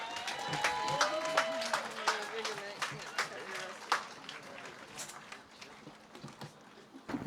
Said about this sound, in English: a round of applause again for our Prime Minister